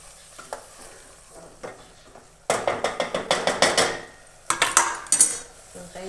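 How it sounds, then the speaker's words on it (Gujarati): Cauliflower curry with coriander stirred in a frying pan, a soft sizzle broken by bursts of rapid scraping and clanking of a spoon against the pan, loud and close. "આપણે સારી ચલાવી લઈશું."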